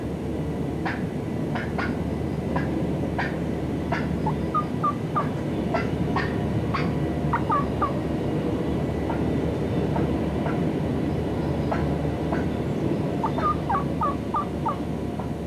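A wild turkey hen lured in by hunters' calling gives repeated short yelps and clucks in loose series over a steady outdoor background, fairly close, with no talking.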